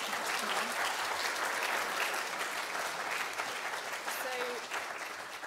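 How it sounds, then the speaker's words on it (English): Conference audience applauds after a presentation, a steady wash of clapping that holds for several seconds and then begins to thin out, moderately loud and unbroken by talk. "just a round of applause"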